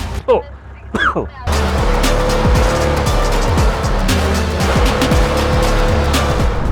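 A diesel car engine idles loudly with rough revs and a squealing tire, after a brief burst of speech at the start.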